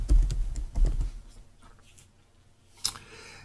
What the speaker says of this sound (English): and I'll type Kaufman